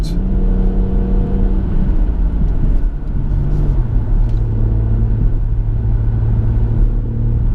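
A BMW M140i engine pulls hard in sport mode, a loud, steady low rumble that climbs through the revs, with the tone stepping as the car accelerates on the road.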